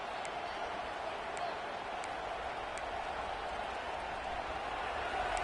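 Crowd noise from a stadium in the college football video game NCAA 26, with Tennessee playing. It is a low, steady roar that stays faint and constant in the background throughout.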